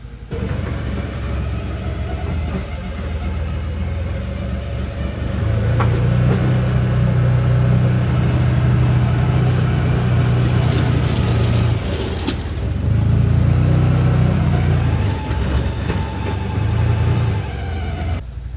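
A CF Moto utility vehicle plows snow off a driveway, its engine a loud, steady drone that swells and deepens twice as it pushes through drifts, with no talking.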